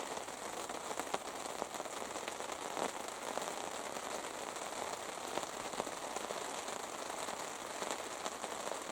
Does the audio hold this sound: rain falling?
yes